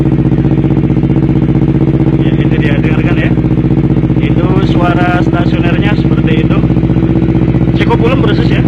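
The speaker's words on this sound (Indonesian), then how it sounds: "Itu suara stasionernya" Close and loud, a Honda CBR 250RR motorcycle exhaust holds a steady, pulsing idle while someone talks intermittently over the engine.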